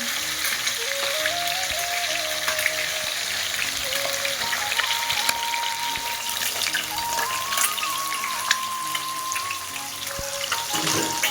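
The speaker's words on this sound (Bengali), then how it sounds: "এটি যখন দই দিয়ে ভেজে নেব।" Fish frying in a pan with yogurt makes a steady, dense sizzle throughout, while faint tonal music-like sounds run underneath.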